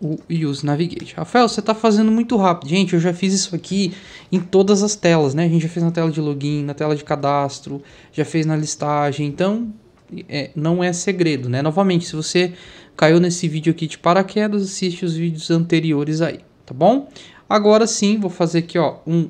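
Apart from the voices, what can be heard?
None of the usual background noises is heard.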